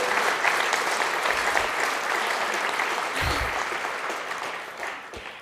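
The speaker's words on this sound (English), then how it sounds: "Give him a real round of applause." Audience applause for avalanche forecasting speaker Simon Trautman at the WYSAW 2024 Pro Day, a full, sustained burst of many people clapping that tapers off slightly at the end.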